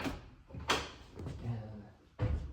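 A small bathroom door in a tiny home is handled, giving a few knocks and sliding bumps of wood, close and fairly loud, with some talk around them.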